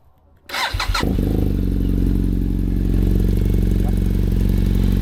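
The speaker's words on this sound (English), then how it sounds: "I'm just going to turn on the bike and you will probably hear the cooling fan turns on right away." A 2015 BMW F800R motorcycle starts up close by, a short cranking clatter catching into a steady, loud idle with the cooling fan running from the start, and no talk over it.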